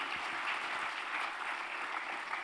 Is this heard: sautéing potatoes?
no